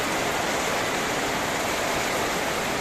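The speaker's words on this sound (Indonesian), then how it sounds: "karena di sini lagi hujan deras" Heavy tropical rain falls outside a parked Toyota Yaris Cross hybrid, a loud, unbroken roaring hiss that fills the whole scene from start to finish.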